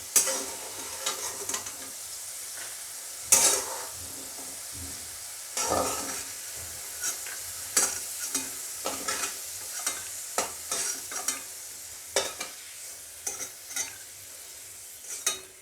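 Potatoes fry in oil in a pan, with soft sizzling broken by a run of sharp scraping stirs and clinks that come close and clear at irregular intervals. No one talks.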